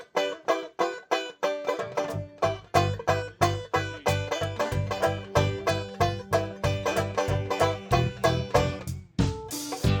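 A 1920s Bacon banjo-guitar is played alone, with bright plucked chords and single notes strummed in a steady rhythm, close and clear, ending in a brief flurry of higher picked notes.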